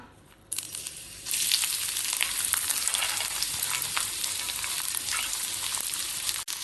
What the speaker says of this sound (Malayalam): എണ്ണ ചൂടാവുമ്പം ഇതിലേക്ക് വലിപ്പം കുറഞ്ഞ ഒരു സവാള മുറിച്ചതും ഒരു 4-5 അണ്ടിപ്പരിപ്പ് 2ആയി പിളർന്നതും ഇട്ട് കൊടുക്കാം.